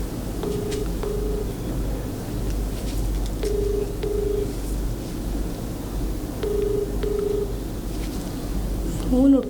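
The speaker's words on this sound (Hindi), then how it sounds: "फोन उठाओ" A telephone rings in repeated double-ring bursts, three sets spaced evenly apart over a steady low hum of room noise.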